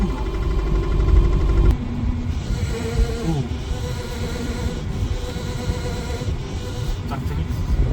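A steady low engine rumble runs throughout with a rattling, vibrating texture and a faint whine, loud and close, with a brief shift in tone early on.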